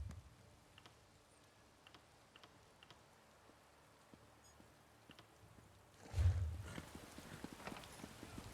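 Horse hooves clip-clop faintly in The Elder Scrolls Online, a sparse, quiet series of soft knocks that swells into a louder burst of movement near the end.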